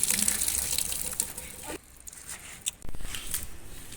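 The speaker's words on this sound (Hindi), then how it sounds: "कीमे का पानी हम निकाल लेंगे।" Water drains off boiled minced meat during samosa filling preparation, a gushing pour that splashes and runs, pauses briefly, then resumes in short bursts.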